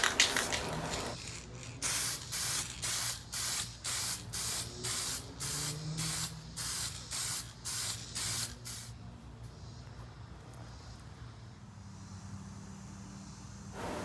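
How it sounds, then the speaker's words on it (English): Short, loud bursts of spray from a lacquer spray gun lay misty coats of dye-based toner lacquer during cabinet touch-up, about a dozen even hissing pulses in steady rhythm, then quiet background. "So I'm going to use some misty coats of a dye-based lacquer"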